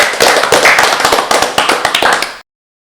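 Live podcast audience at an arts venue in Birmingham clapping, a close, loud burst of many hands for a couple of seconds that cuts off abruptly.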